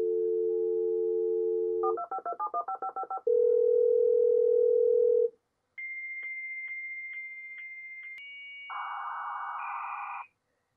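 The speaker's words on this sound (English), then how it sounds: "I set up some Cisco equipment that actually lets me dial up with physical modems over telephone lines" Dial-up tones from physical modems linked through Cisco equipment over telephone lines: steady dial tone, a quick burst of DTMF digits, a long tone, then high whistling handshake tones ending in a harsh noise burst, loud and alone.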